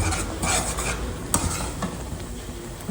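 Puliyogare gojju, a thick tamarind sauce, bubbles and sizzles in a pan on the stove while a spoon scrapes and stirs it in repeated close strokes, with one sharper clink of the utensil and no voices.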